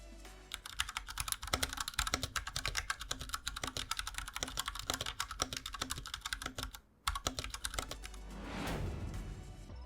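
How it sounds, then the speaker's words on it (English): Typing on an IQUNIX F60 keyboard with stock Cherry MX Brown switches: steady, fast, close clacking keystrokes in a continuous run, a brief pause near the end, then a softer rustle, no voices. "Here is a brief clip of what the Browns sound like stock."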